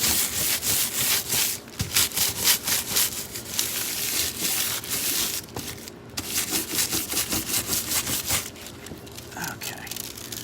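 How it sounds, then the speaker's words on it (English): Foil is scrubbed onto a stencil in quick, rhythmic back-and-forth rubbing strokes, close and fairly loud, coming in bursts with short pauses between them. "I think I need a little more scrubbing."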